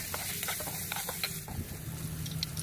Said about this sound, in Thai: ใส่กระเทียมลงไปผัดให้มีกลิ่นหอมค่ะแล้วก็นำเต้าเจี้ยว2ช้อนโต๊ะนะคะลงไปผัดนะคะ